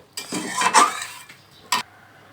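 Egg and potato curry scooped from a cooking pot into a serving dish: a few close spoon-on-metal scrapes and clinks, then a short pause and one final sharp scrape.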